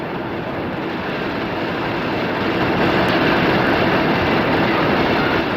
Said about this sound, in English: Ark Royal pulls away from Plymouth in the first version of the clown livery